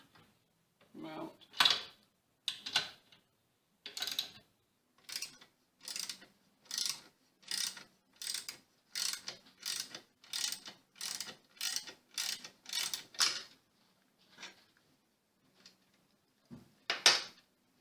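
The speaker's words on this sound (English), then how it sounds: "You will need a 9/16 wrench and ratchet. Remove the bolt for the mount." A ratchet with a 9/16 socket turns a motor mount bolt loose, giving a steady series of about twenty crisp metallic clicks at an even, unhurried pace, close and clear with brief pauses near the end.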